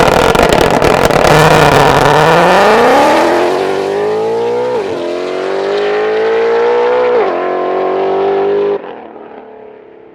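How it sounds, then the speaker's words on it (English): A 2020 Shelby GT500KR with a 1000R upgrade launches hard on launch control, its engine roaring loud and close as it climbs through two quick gear shifts before the sound drops away near the end. "Now let's check out this launch control in action."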